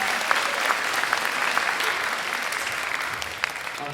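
A school concert audience applauds a symphonic band on stage, steady dense clapping at moderate volume filling the hall throughout, with no voices over it.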